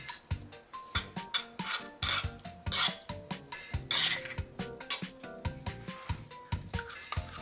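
Honey is mixed in a bowl with a utensil, giving a steady series of rhythmic clinks and scrapes about twice a second. The sounds are close but quiet.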